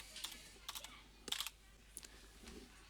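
Quiet computer keyboard typing, a few short bursts of key clicks spread across a few seconds, with no talking over them.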